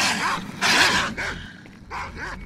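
Several dogs bark in short, loud bursts in the STALKER: Shadow of Chernobyl game, with bright yelping barks clustered in a few close volleys and brief gaps between them, no talk over them.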